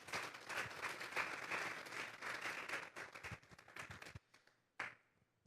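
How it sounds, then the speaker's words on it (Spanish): A church congregation at a Spanish-language worship service claps loudly in a dense burst of applause that thins into a few scattered claps before stopping, with one last clap after a pause. "Vamos a darle un fuerte aplauso pues al Señor esta tarde."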